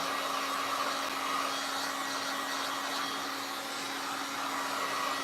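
A hair dryer blows steadily and loudly throughout, drying damp paint on a DIY frame candlestick, a constant rushing whoosh with a low motor hum beneath it.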